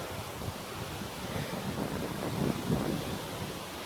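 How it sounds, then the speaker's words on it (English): Strong wind of around 20 to 30 miles an hour blows through woodland where a tree has fallen, a steady loud roar buffeting the microphone throughout with no clear talking. "I don't even know if you can hear me at the moment with this wind."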